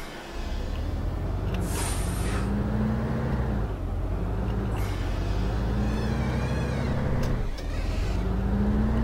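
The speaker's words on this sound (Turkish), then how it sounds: "Şöyle bir kapıyı bir açalım bakalım." Articulated MAN bus from the OMSI 2 simulator, parked cold under heavy snow, with a steady engine rumble and short bursts of air hiss as the door mechanism actuates, plus a few sharp pneumatic releases.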